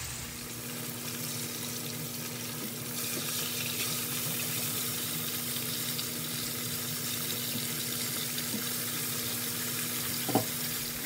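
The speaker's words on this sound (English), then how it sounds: "I'm frying tilapia today" Tilapia pieces coated in corn starch fry in hot oil, a steady soft sizzle and bubbling that continues without a break, with one brief clink near the end.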